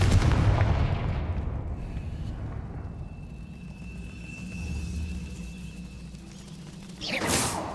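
A fiery Confringo spell from Hogwarts Legacy goes off as a single burst with a whooshing blast, then a long rumbling tail and steady low hum, ending in a sharp swelling whoosh.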